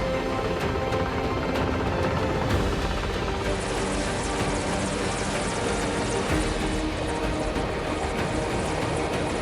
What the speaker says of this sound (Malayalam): ഹെലികോപ്റ്റർ ഇറങ്ങി.